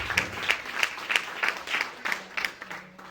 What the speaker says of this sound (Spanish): Ofrenda de aplauso para Cristo.